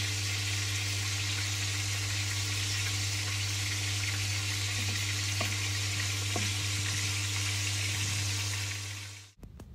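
Pieces of boal fish fry in a pan with a steady, dense sizzle over a constant low hum, a couple of faint clinks midway, and a sudden stop at the end.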